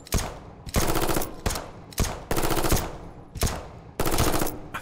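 Bursts of rapid pistol gunfire in the video game Arcticide come in about six loud, close volleys, each a quick string of shots broken by short pauses, with no talk over them.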